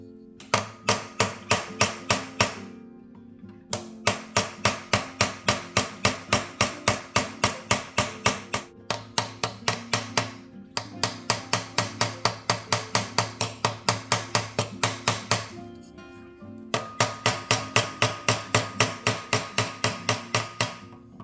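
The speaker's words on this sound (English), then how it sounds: "We'll be using this actual peening hammer" Rapid metallic peening hammer strikes on metal pins in steady bursts of many blows, with short pauses between runs, loud and close.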